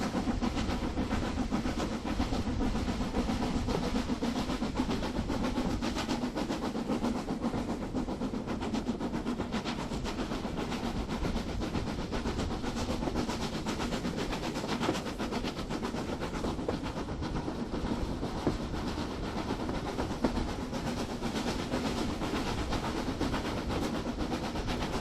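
A K's kit model locomotive in 1938 condition, fitted with an SCAP RG41 coreless motor and a K's etched chassis, runs with a steady, continuous whirring rumble and faint track noise throughout, no voices.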